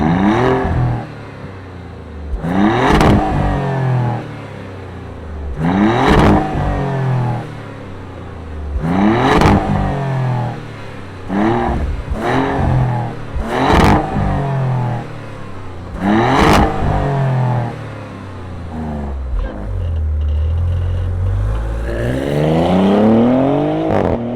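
A 2024 Maserati GranCabrio Trofeo engine fires up and revs loudly in a series of sharp climbing bursts, each settling back to a rumbling idle, heard close with no talk.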